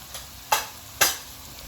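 Turmeric, coriander powder, red chilli and onion-garlic masala are being stirred into a pan in a home kitchen, giving two short, distinct scraping strokes over a faint background hum.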